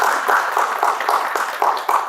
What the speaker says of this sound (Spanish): Un fuerte aplauso para que todos